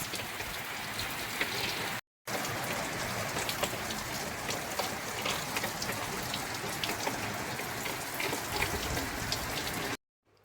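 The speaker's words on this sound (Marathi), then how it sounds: "आमच्याकडे 6 वाजल्यापासून खूप जोरात पाऊस चालू आहे" Heavy rain pours down on surfaces in a dense, steady hiss close by. It has no talk and is broken only by a brief cut early on and another just before the end.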